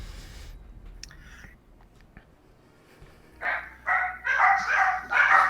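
Jittery dogs bark in a quick run of loud, close barks, four or five sharp bursts after a few quiet seconds, overlapping into a noisy cluster near the end.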